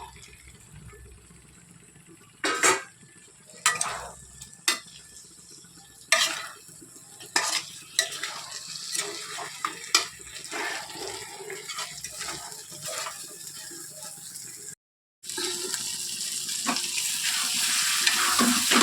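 Fried potatoes and peas stirred into cooking masala for aloo matar butter paneer, with a spoon scraping the pan in several sharp strokes over a steady sizzle of oil.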